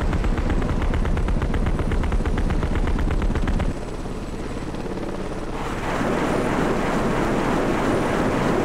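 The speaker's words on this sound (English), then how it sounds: "I distinctly heard a minigun." A minigun in the helicopter combat game Heliborne fires a rapid, dense buzzing stream of shots over a loud rotor drone, then cuts off, leaving engine noise before another roaring burst of fire.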